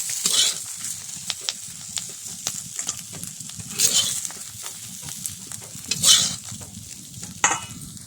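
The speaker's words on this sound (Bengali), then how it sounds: "চিংড়ি মাছগুলো ভেজে নিচ্ছি।" Shrimp frying in oil in a wok: a steady, moderate sizzle broken by intermittent scraping stirs, with several brighter bursts of spattering spread through the clip.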